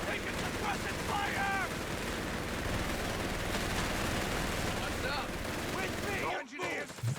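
Machine gun fire in Company of Heroes 3 rattles continuously in rapid, dense bursts over a busy battlefield mix, with a few whistling effects and a brief drop in the final seconds.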